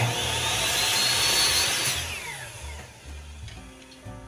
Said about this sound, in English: just use your sander because that won't take off as much